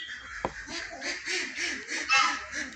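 Ducks quack in a short run of nasal calls on a mixed farm with laying hens and roosters, fairly close and with nobody talking.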